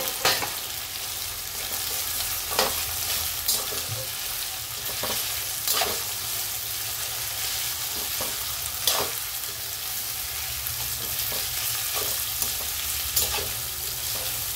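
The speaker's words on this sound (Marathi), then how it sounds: "आता आपण फ्लावर टाकून घेऊ, त्याला पण थोडंसं परतून घेऊ" Cauliflower florets stir-fry in a pan with potatoes for vegetable biryani, a continuous close sizzle broken by regular spatula scrapes and knocks every few seconds.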